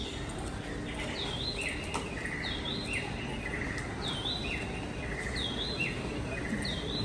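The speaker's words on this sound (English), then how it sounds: "Like bird sounds." On the deck of the Royal Caribbean cruise ship Allure of the Seas, bird chirps repeat in a steady, evenly spaced pattern. The chirps sound over a constant wash of ambient crowd and deck noise.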